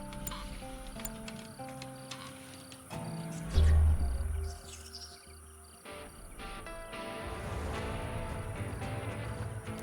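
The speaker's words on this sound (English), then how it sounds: "And the bugs are attacking" Swarming alien bugs attack a colony in the survival video game Stranded: Alien Dawn, a dense chittering, insect-like drone layered under game music and effects, with heavy low thuds partway through before the buzzing mass resumes.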